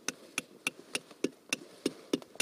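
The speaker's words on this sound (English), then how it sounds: "Now I get a hammer, something else I probably shouldn't hold." A hammer taps a metal tap into a maple tree at a sugar shack, giving about nine sharp, evenly spaced knocks in quick succession, close and fairly quiet.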